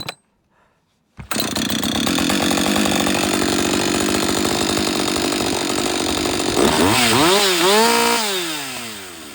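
A Husqvarna 562XP chainsaw hot starts after a brief quiet pull and settles into a loud, buzzing run close by, then revs up and down several times before dropping back.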